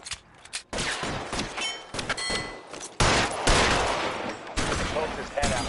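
Gunfire in the video game L.A. Noire: loud bursts of rapid shots in an intense firefight, dense and continuous with short gaps, close and heavy, with game voices shouting between volleys.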